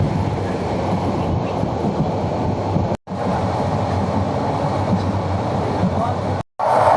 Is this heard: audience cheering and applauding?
no